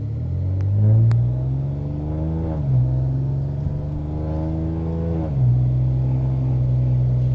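A catless, straight-piped Ford Taurus Limited launches hard, its raspy exhaust climbing through two gear pulls with brief dips at each shift, loud and close from inside the car.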